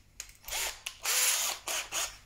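A power drill bores a countersink into wood for a shooting board in several short bursts, each a loud, close whirring grind separated by brief pauses.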